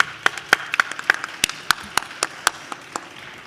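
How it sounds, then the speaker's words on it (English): Scattered claps ring out from an audience at a social justice job fair, a thin, uneven round of applause with sharp individual hand claps spaced irregularly, fairly distant and modest in volume, with no voices over them. "Round of applause, real."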